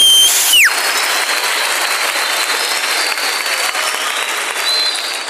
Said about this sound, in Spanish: Nos encanta que nos aplaudan. Gracias por los aplausos.